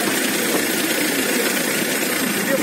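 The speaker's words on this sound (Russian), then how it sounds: "Приглуши мотор." A car engine idles steadily and loudly for the whole stretch, a constant close rumble with no voices.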